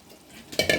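A quick stir of fish curry with barracuda in a pan: two short scraping swishes of a spoon against the pan at the very end, close and fairly soft.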